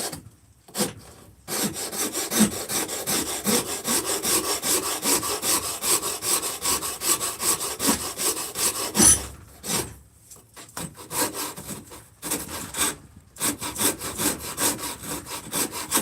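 Hand saw cuts through wood while a carved spoon bowl is being shaped, a long run of rhythmic rasping back-and-forth strokes, close and steady, broken by a few brief pauses.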